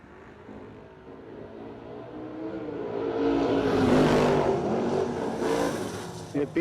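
A drag racing car at the No Delay Nationals builds from a distant rumble to a loud roaring pass as it accelerates down the track, the noise swelling over several seconds and holding near its peak.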